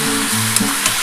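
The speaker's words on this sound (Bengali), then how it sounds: "বন্ধুরা দেখো এবার ভালো করে এটা নাড়াচাড়া করে নিচ্ছি।" Chicken and potatoes fry in a little oil while being stirred, a steady close sizzle broken by a couple of soft scraping clicks from the stirring utensil, with no talk.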